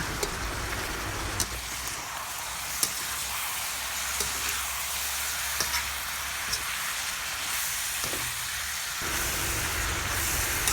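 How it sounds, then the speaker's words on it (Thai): Sweet pork stir-fried in a pan with dark and light soy sauce, oyster sauce, salt and seasoning powder, giving a steady loud sizzle and hiss throughout with faint scattered clicks of a utensil, no talking. "ผัดให้เข้ากันนะคะ"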